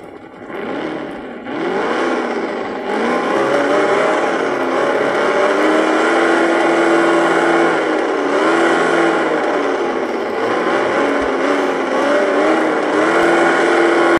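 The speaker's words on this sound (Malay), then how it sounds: "Aku naik kereta." A car engine drives in a video game, with a steady, loud, droning hum that swells and rises in pitch as it revs, continuing unbroken with no talking.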